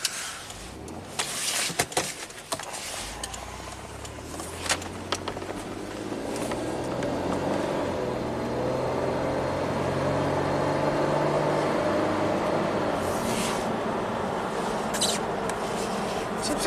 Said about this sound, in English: let's take it for a rip here on the paved road.